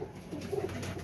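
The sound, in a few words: pigeon cooing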